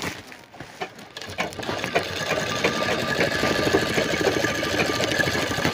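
A sewing machine stitches a mat made from cement sacks, starting with a few uneven clicks and then running in a fast, steady mechanical whir that stays loud and continuous.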